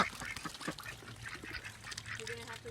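Farm ducks quack in short, repeated calls, faint and a little distant, amid outdoor background noise.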